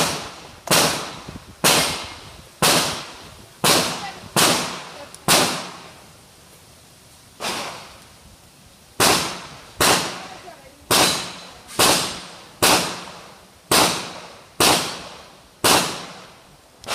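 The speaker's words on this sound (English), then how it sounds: "Shooting live fire." Live-fire shooting outdoors, about fifteen sharp, loud gunshots, each with a decaying echo, fired in two fast rhythmic strings separated by a short pause.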